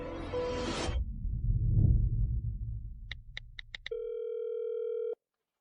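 A telephone call fails to connect: after a brief rustle and whoosh, a run of short clicks is followed by a single steady flat tone that cuts off abruptly.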